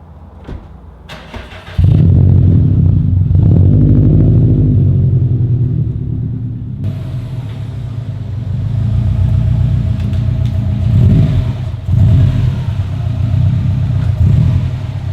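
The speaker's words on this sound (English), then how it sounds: "Gonna pull the car around and do the fronts now." Subaru WRX engine cranking and starting, then settling into a loud, close, low rumbling idle as the car pulls around, with slight revs and steady engine noise throughout.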